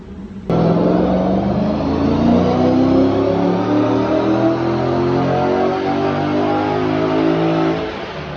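A Holden VF SS with a stock 6.2-litre LS3 V8, VCM OTR intake and full Empire exhaust with headers revs hard on a dyno, one long loud pull climbing steadily in pitch for about seven seconds before easing off.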